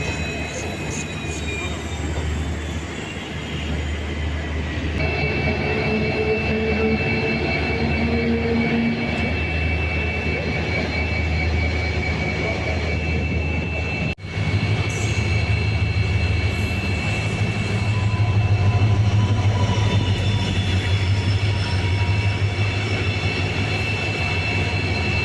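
A train rumbles steadily past for a long stretch, a constant heavy roar with faint high squeals and tones running over it.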